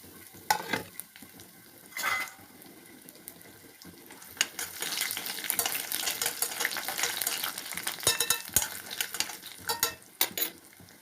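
Bay leaves and dried lentil dumplings fry in hot oil with chillies and five-spice seeds, giving a soft crackling sizzle broken by sharper spatula and pan scrapes, with no talking.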